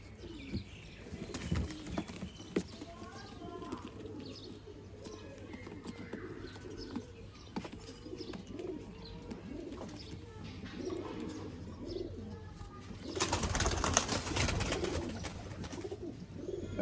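Pigeons coo softly and repeatedly at close range in a breeder's loft, with faint chirps and a burst of wing flapping near the end.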